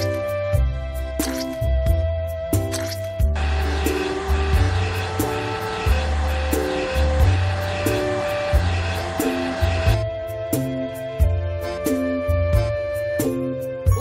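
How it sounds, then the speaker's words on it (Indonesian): A hair dryer blows over wool in a children's animal video game, a steady whirring rush lasting about seven seconds in the middle, set against continuous bright game music. "gerakan pengering rambut di atasnya untuk mengeringkan"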